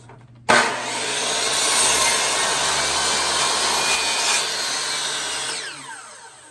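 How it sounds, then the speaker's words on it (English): A non-sliding chop saw cuts the end of a 1x6 wooden board at a 60-degree angle. A sharp bite opens a steady, loud, whining cut of about five seconds, and then the blade spins down. "I'm just cutting the very end of this board to 60 degrees"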